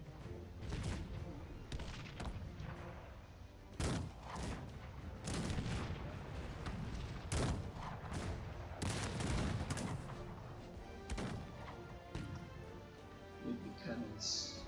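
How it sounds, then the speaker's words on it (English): Musket volleys and cannon blasts from a Cossacks 3 battle fire in irregular bursts, sharp cracks and deeper booms scattered over a continuous battlefield din, with someone talking over it. "first open fire and destroy this one."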